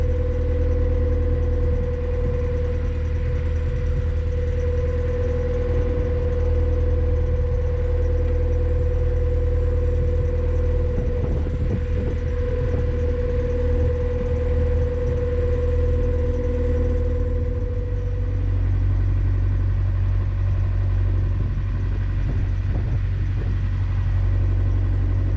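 A low, steady boat engine idles continuously at low revs with a deep rumble and a faint hum, holding even revs throughout with no voices.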